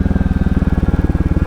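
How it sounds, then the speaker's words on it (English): A Royal Enfield Classic 350 motorcycle thumps along close by in a rapid, even chain of heavy low pulses, a steady single-cylinder beat with no distinct separate pops standing out. "Backfiring."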